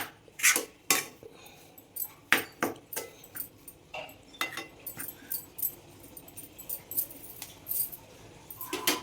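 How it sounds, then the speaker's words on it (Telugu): Amla (stone gooseberry) pickle being stirred and mixed in a metal vessel, with repeated scraping and clinking of a spoon against the pot in an irregular rhythm, close and moderately loud, no talking. "చూసారా ఎంత ఈజీగా కలిపేసానో ఉసిరి బాగా కలుపుకోవడం పెద్ద అంత కష్టమైన పనేమీ కాదు"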